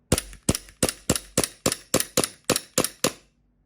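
A tan Taiwanese WE Glock 17 Gen5 gas airsoft pistol fires as its gas runs low, giving about eleven sharp, evenly spaced cracks, each with a short metallic ring. The shots are close and loud, then silence.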